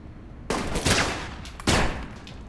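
Gunfire in the video game Alpha Protocol: two loud, close bursts of rapid shots, the first spread out, the second sharper, over a steady background.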